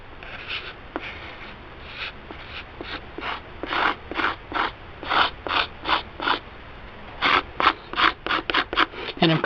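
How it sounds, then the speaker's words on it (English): Excess filler being scraped off the wings of an E-flite P-51 Mustang model airplane, a run of about twenty short rasping strokes in a steady rhythm, close and fairly loud with no talk. "I'm kind of scraping some of this excess off the wings"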